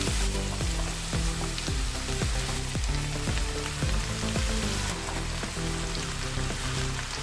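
Chopped vegetables for mezhukkupuratty fry in a pan with a dense, continuous sizzle, punctuated by a steady series of soft knocks from stirring or items dropping in, close and loud throughout.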